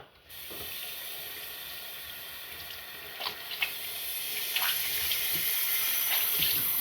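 Water running weakly from a tap while laundry is being done, a steady hissing flow with a few faint splashes and clinks, growing slightly louder toward the end.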